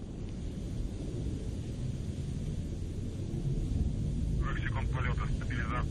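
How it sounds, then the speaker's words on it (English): Soyuz TMA-07M rocket climbing with its four strapped-on boosters and single core engine burning liquid fuel, a steady, dense broadband roar filling the whole span, with faint radio-style voice chatter rising near the end. "the Soyuz delivering 102 tons of thrust from its four strapped-on boosters and single-core engine"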